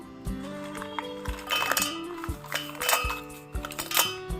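Roasted red chillies tumble into a steel mixer jar with a series of close, bright clinks and taps, uneven and scattered, with no talking over them.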